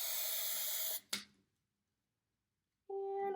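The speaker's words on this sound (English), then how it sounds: "I'm going to squirt a good, healthy amount of hairspray in" Hairspray hisses loudly from an aerosol can into a jar for about a second, followed by a brief clunk and silence, then a second steady spray begins.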